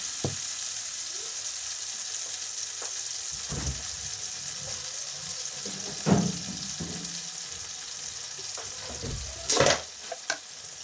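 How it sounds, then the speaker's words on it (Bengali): Low, steady sizzle of a mixture sautéing in a pan, broken by occasional sharp spoon knocks and scrapes against the pan, close but quiet, with no voices. "ভালো করে এটা কষিয়ে নেবো।"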